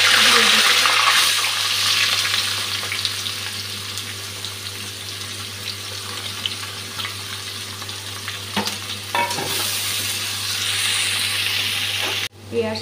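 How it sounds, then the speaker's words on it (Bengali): Onions frying in a pan for a chicken curry, with a loud continuous sizzle and crackle that eases slightly over time, broken by a few scraping stirs and a sudden cut near the end. "পেঁয়াজটা অনেকটাই ভাজা হয়ে এসছে"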